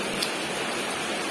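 Heavy rain driven by strong wind in Jogja makes a dense, continuous hiss with no pauses, loud and close throughout the short stretch.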